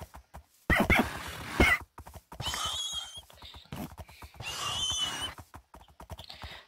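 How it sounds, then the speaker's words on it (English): Minecraft horses whinny and neigh in several loud, separate bursts, with hoof clops between them and short gaps of near silence. "All the horses are making noise and I can't tell which is which."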